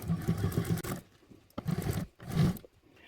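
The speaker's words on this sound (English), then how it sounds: "And I'm going to start sewing." A sewing machine stitches fabric for a quilted Pandora Allure project in three separate bursts of rapid, even needle pulses, with short quiet pauses between runs.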